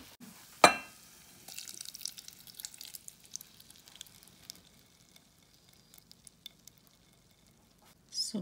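Hot liquid caramel poured from a pan into a pudding mold for a flan: a sharp clink of metal, then a soft, faint sizzle and trickle that fades into light intermittent ticks and drips.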